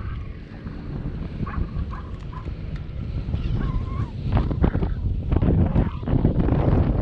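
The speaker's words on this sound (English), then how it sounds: "Wind's definitely starting to pick up though." Wind gusting across open water on a springtime crappie fishing trip, a steady broadband rush that builds in strength toward the end, with faint knocks and small splashes on a boat.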